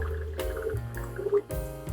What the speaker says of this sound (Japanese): めっちゃ水飛んでるわ。